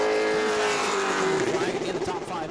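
Pro Late Model race car number 26, a Willie Allen Racing machine, roars at high revs on the New Smyrna oval, a loud sustained engine note shifting in pitch, with an announcer talking over it.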